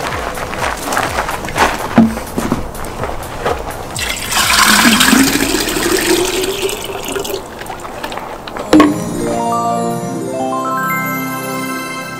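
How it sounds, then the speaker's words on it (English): Water gushes and splashes loudly into a jar as it is filled, a continuous rushing pour that shifts in tone as the level rises, ending with a clunk and then a rising, ringing fill tone. "Take that jar and fill it with water."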